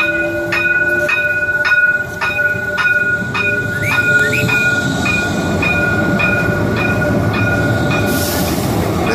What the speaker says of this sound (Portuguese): vamos dar uma olhada aqui do VLT saindo da estação